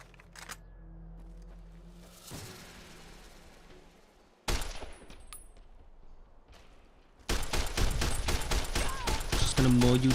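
Submachine gun fire in Fallout: New Vegas crackles in a sustained burst of rapid shots toward the end, preceded by a single sharp blast and quieter ambience, with a voice heard over it.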